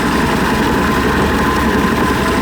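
A Mercruiser 3.0 boat engine with newly installed lifters idles steadily and evenly, a continuous close, moderately loud low rumble with no audible tick.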